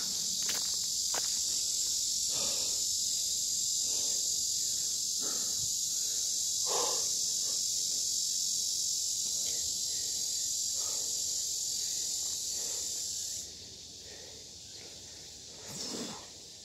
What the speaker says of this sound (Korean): 벌레가 너무 많은데